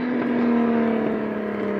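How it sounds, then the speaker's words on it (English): Single-turbo BMW X3M running with a steady high whistle from its turbo over an even engine drone, close and fairly loud, continuous throughout with no talking. "You can hear that turbo whistle."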